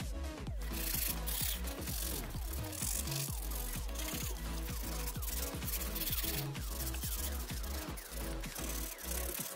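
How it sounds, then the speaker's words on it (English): Sandpaper rubbed back and forth along the edges of a styrofoam glider fuselage, a rapid run of scratchy strokes at a steady rhythm, close and continuous with no talking. "I'm going to use this sandpaper to sand all the edges of the fuselage"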